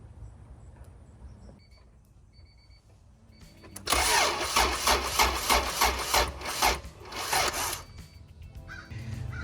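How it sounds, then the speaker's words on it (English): Honda H22 engine cranking on a weak battery and failing to start, a burst of rhythmic, laboured starter turnover lasting several seconds after a quieter stretch, fairly close and loud, with no voices. "looks like the battery doesn't have enough charge to get this motor started"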